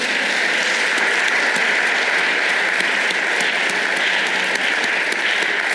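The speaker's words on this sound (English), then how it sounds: "So let's clap for them." Audience applause at a live show, a steady, dense clapping from a crowd that holds evenly throughout.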